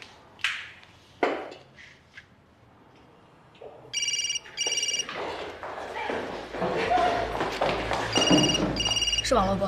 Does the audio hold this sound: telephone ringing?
yes